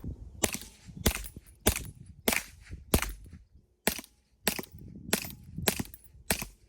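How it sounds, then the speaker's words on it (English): Supersonic rifle shots fired through a HuxWrx Flow 36 Ti suppressor, a series of sharp, evenly spaced cracks with short tails, about ten reports at a steady pace, loud and close. "Five supersonic, and then we're gonna do 5 subsonic."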